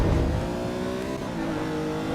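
A race car engine in the sim racing game Le Mans Ultimate, a hard-to-drive supercar, drones loudly and steadily throughout with a dense harmonic whine, holding high revs with slight rises and dips.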